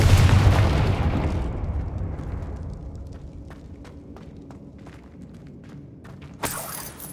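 A Confringo spell in Hogwarts Legacy on PS5 goes off with a loud booming burst that rolls away into a fading, crackling tail, followed by a sharp flash of sound near the end.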